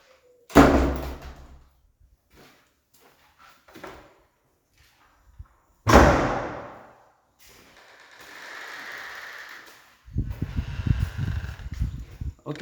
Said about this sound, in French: Et puis je peux fermer les portes.